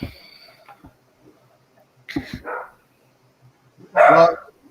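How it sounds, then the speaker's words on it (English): A dog barks in short bursts, a few brief yips early on, then two sharper barks near the middle and one louder, fuller bark near the end, with quiet gaps between. "well, your dog's active."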